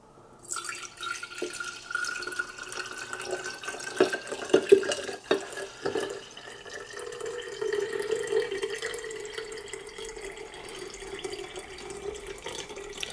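Brewed coffee pouring from a French press into a cup, a steady liquid trickle with a few drips and clinks, close and fairly quiet, with no talking.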